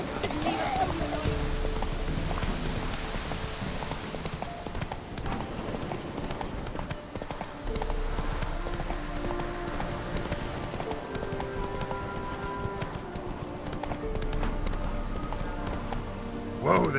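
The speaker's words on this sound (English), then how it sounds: "Whoa there, Roach" Horse hooves from The Witcher 3: Wild Hunt on PS4 keep up a steady clip-clop throughout, mixed under game music and background voices.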